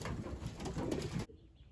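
Young racing pigeons in 2021, out on their first fly, coo softly in a few low, throaty bursts close by. The sound stops abruptly and leaves near silence.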